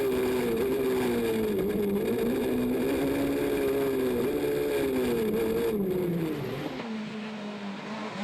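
A Super 2000 rally car on a stage of the European Rally Championship in Switzerland, its engine loud and close, the pitch climbing and dropping through gear changes before fading away.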